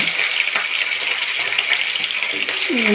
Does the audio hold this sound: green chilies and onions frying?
yes